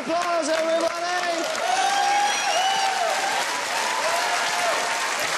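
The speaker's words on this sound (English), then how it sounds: "give a round of applause" Studio audience applause on the Irish dating show Take Me Out fills the scene as a loud, continuous wash of clapping and some cheering, with people talking over it throughout.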